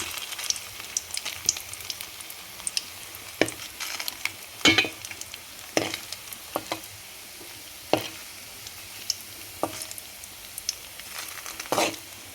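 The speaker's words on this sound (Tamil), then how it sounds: "பொறிச்சு எடுத்துக்கணும் சீக்கிரம் சூடாகிட்டுன்னா சீக்கிரமாக பொரிஞ்சிடும்" Kola urundai balls frying in hot oil, a steady soft sizzle punctuated by frequent sharp crackles and pops, with occasional clinks of a utensil stirring.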